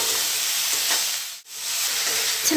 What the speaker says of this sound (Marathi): आता याच्यातच हा जो टोमॅटो चिरून ठेवलेला आहे तो छान मस्त परतून घेते